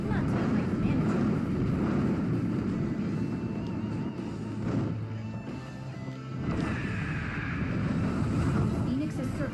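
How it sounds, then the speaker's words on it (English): The Phoenix circling overhead in Kid Icarus Uprising is a broad, continuous whooshing roar mixed with game effects and rumble, steady and loud throughout, with voices talking over it. "Phoenix is circling overhead."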